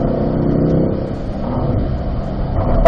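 A race car engine on a track holds a steady, loud drone in fourth gear, rising slightly toward the end with no talking.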